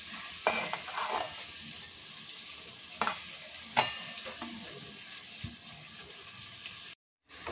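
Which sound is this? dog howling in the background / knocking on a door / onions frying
onions frying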